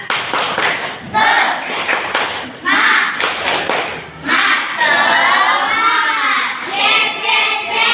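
Elementary schoolchildren in a fifth-grade math class clap a rhythmic spirit chant together, bursts of crisp group claps alternating with loud sung and shouted voices in a lively classroom.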